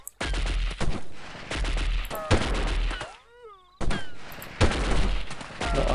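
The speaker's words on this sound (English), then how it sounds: "I am getting shot at quite a lot" Gunfire aimed at the player in the video game Delta Force, loud rapid shots in dense bursts with a brief lull and a descending whistling tone before the firing resumes.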